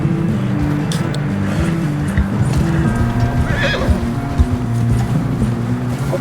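A horse in the video game Red Dead Redemption 2 whinnies and neighs amid clip-clopping hooves, with engine-like rumbling and game ambience underneath throughout.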